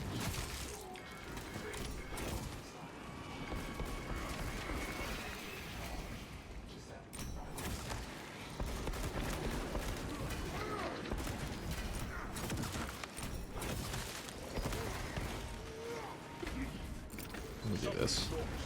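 Heavy bolt rifle fire from a lone Heavy battling a Tyranid swarm in a video game, dense rapid bursts and crashing impacts running continuously over busy battle noise.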